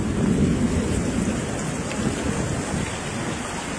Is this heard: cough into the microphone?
no